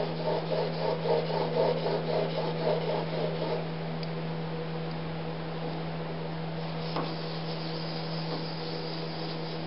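A steel chisel is rubbed flat on a sharpening stone, rhythmic gritty strokes for the first few seconds, then quieter scraping over a steady mains hum.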